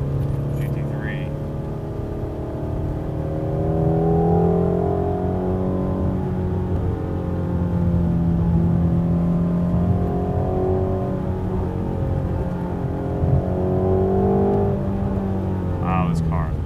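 A Ford Mustang's engine hums steadily through a series of S curves, with a voice talking over the drone throughout, the tone rising and falling slightly as the car accelerates.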